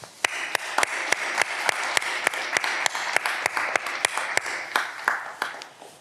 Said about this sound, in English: Let's give a big round of applause to all the family and friends who have supported you throughout your education